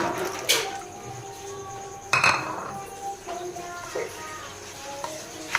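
A spoon stirs raw mango sherbet with lemon juice in a metal pot, making a few sharp clinks and scrapes spaced over several seconds, with faint talk in the background.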